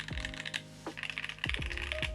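Keystrokes on a custom-built Vega 65 mechanical keyboard with long-pole switches, plate foam and one layer of case foam: a quick, irregular run of sharp, clacky presses, close and fairly quiet, with no talking.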